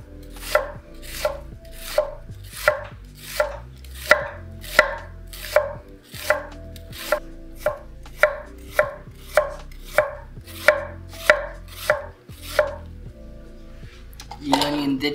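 A handmade Baldwin Blades 214mm gyuto knife chops through an onion on a board, with about twenty crisp, evenly paced knife strikes in a steady rhythm, close and clear, with no talking over it.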